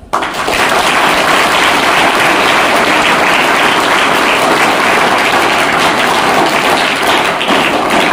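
Loud, sustained applause fills a village gathering for a tree-planting and new pond project, many hands clapping densely and continuously for about eight seconds after a brief quiet start.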